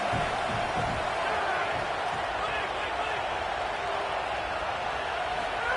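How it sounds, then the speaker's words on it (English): A home crowd roaring steadily in a college football video game, a broad, continuous wash of cheering with no letup, with a commentator's voice faintly present beneath it. "how nice is it to have the home crowd going absolutely bananas?"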